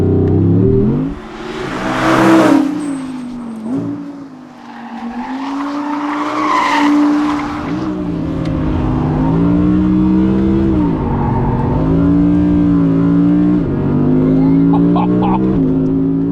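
Audi R8 GT sports car driven hard near Seville, Spain, its tires squealing loudly through corners over a strained, surging engine note, with repeated bursts of skidding and revving and no talk.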